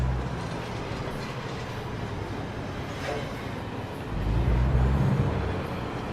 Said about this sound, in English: a lot of trains going through Kingman today